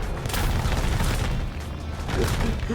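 Tank cannon fire in the War Thunder video game, playing a PTL02 tank destroyer: heavy, continuous booming rumble with a slight dip midway before swelling again, loud and close.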